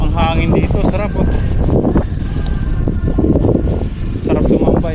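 Wind gusts across the shore of Laguna de Bay, a steady low roaring rumble that buffets the microphone loudly and without pause for the full length.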